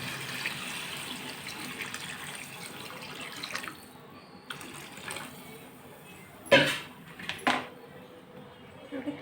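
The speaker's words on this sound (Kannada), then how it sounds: "ಈಗ ನೀರು ಹಾಕ್ಕೊಳ್ತೀವಿ." Water poured into a pot of vegetable pulao with spices in a home kitchen, a soft steady trickle followed by a few louder splashing pours near the end.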